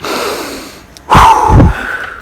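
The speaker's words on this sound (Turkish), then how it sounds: "Derin bir nefes alır mısın üç kere? Burnundan al ağzından ver." A person takes a deep breath in through the nose and lets it out through the mouth, heard as a sharp close inhale followed by a long rushing exhale.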